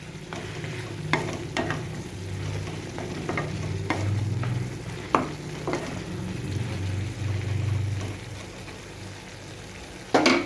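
Fennel and ginger paste being stirred into bottle gourd cooking in a pan, a steady sizzle under a series of sharp spatula scrapes and clanks, no voices.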